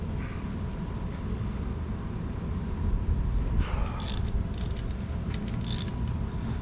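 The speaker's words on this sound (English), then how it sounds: "Just gonna remove the bolts one at a time." A ratchet wrench clicks and grinds as bolts are backed out of a still-warm vehicle rear end cover, with scattered metallic ticks and creaks growing busier midway, close and fairly quiet.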